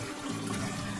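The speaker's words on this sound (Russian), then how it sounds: "ее хорошо промыть, ее надо под холодной водой" Cold tap water runs steadily over funchoza glass noodles being rinsed, a continuous close splashing gush with no talk.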